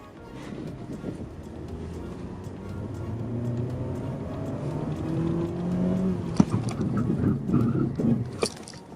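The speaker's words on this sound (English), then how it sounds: "that grrr, grrr, grrr sound, that's the ABS" A 2022 Mitsubishi Xpander's rough, rumbling grind as ABS brakes pulse under hard stopping on a test track, building in intensity and ending with sharp clattering pulses.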